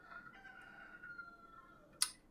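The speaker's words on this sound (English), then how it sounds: "Thank you for putting up with the terrible chickens who just never shut up outside of my window." A rooster crows outside a window, a drawn-out moderately distant call, followed by a brief sharp click near the end.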